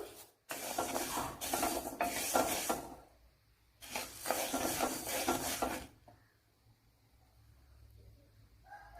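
Horse gram roasting in a pan for chammanthi podi, giving two loud stretches of dry rasping, rattling scrape and crackle near the mic, each a few seconds long, separated by quieter pauses.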